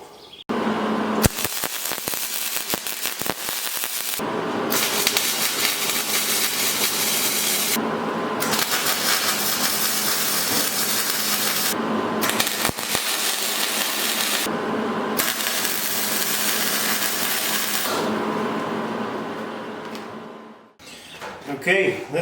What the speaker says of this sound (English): So let's get to welding this guy up.